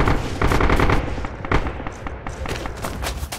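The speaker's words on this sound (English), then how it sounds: "Cut down by Custodio's MG." Rapid machine gun fire in a video game, a loud sustained burst of closely spaced shots that briefly pauses and then resumes with several more bursts and thuds.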